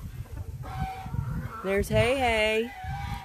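Turkeys, chickens and roosters at a farm, with a rising honking fowl call and clucking near the mic, heard between and under casual talk from people nearby.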